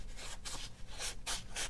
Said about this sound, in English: I could remove it with a very thin sandpaper like that.